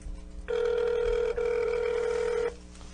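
A telephone rings on speakerphone in a broadcast studio, one steady two-second ring with a tiny break, fairly quiet and alone over low room hum.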